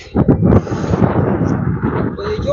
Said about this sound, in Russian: Ой-ой, какой ветер. Аж задувает.